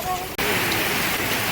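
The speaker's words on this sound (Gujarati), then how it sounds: "બનાસકાંઠાની અંદર રાજકોટ ગામમાં ભારે વરસાદ ચાલુ થઈ ગયો છે" Heavy monsoon rain pours down on Rajkot village in Banaskantha, Gujarat, a loud, dense and unbroken roar of falling water close by. It breaks only in a momentary dip near the start.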